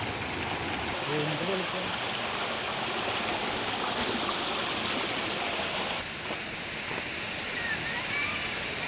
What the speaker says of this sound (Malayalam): ഈ മലയുടെ മുകളിൽ നിന്ന് ഒഴുകി വരുന്ന വെള്ളം രണ്ട് ഭാഗത്തും കൂടി ഉണ്ട്.